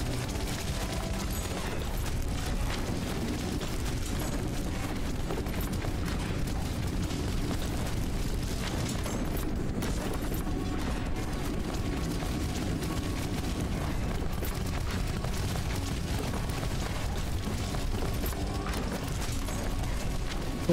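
Mortar shells in the tower-defense game Castle of Alchemists fire and explode without pause, a thick, continuous rumble of blasts and bursts that stays loud and even for twenty seconds.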